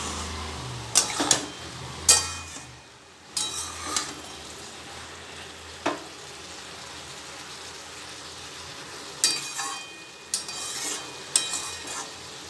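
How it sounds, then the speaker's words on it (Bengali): Sapla (water lily stems) are stirred in a pan over a high flame, giving a soft ongoing sizzle broken by several short scraping, clattering strokes of the utensil. "আর শাপলাটাকে ভালোভাবে নাড়তে হবে"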